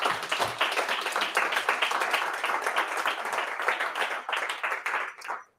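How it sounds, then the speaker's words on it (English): An audience at a Pint of Science evening of talks in Oslo gives another round of applause, dense and sustained throughout, before it fades out abruptly at the end. "let's have another round of applause."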